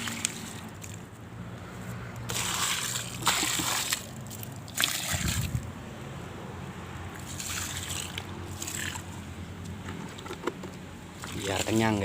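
Water splashes and sloshes in uneven bursts close by as a mango tree is watered around its base, with people talking over it and a steady background rumble.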